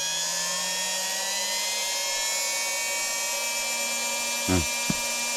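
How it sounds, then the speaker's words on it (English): A brushed 16-turn modified RC motor spins up on an Eagle Racing MD1-V2 dyno, giving a steady, close, high-pitched whine whose pitch drifts slightly, with a couple of brief clicks near the end. "Take a 16 turn motor."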